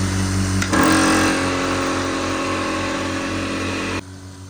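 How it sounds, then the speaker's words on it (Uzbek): An air compressor motor starts with a jolt, then runs at a steady, even hum for a few seconds close by. It cuts off abruptly, leaving a quieter background. No one speaks. "Kompressorimiz ishlash holatlarini ko'rib chiqamiz akalar."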